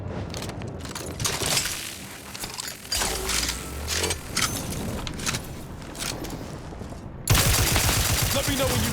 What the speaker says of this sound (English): I guess I could put my shock machine gun back on.